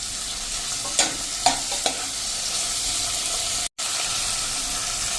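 Tomato dropped into a pan of potatoes, carrots, chillies and ginger frying for vegetable poha, giving a few soft thumps over a steady, even sizzle with no talking.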